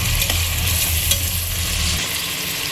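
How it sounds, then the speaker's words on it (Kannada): Onions and chopped sour tomato fry for chicken biryani in a loud, close, constant sizzle with a low rumble beneath that cuts out partway, plus a few soft stirring scrapes. "ಹುಳಿ ಟೊಮೆಟೊ ಚೆನ್ನಾಗಿ ಕುಕ್ ಆಗೋ ತನಕ ಇದನ್ನು ಇದೇ ರೀತಿ ಫ್ರೈ ಮಾಡ್ಕೊಳ್ಳೋಣ"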